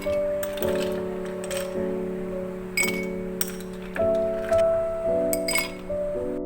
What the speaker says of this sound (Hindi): इसके अंदर मैं बर्फ़ ऐड करूँगी